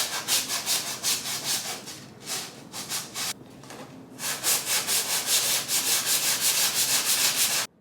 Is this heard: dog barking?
no